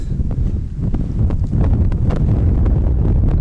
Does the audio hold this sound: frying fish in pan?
no